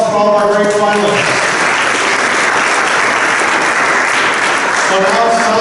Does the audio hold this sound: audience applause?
yes